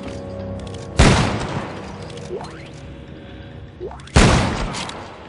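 Two loud, booming explosions go off in the Dead Space 3 video game, a few seconds apart, with quick rising whooshes and mechanical game sounds in between.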